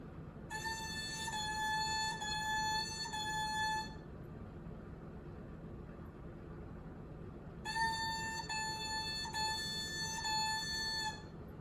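An oboe plays repeated quarter notes in two groups of four, each bright reedy tone steady in pitch, with silence between the groups, close and clear with no talk.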